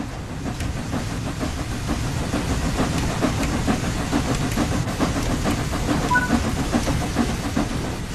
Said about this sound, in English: Now that the locomotive is moving, you can open the regulator some more.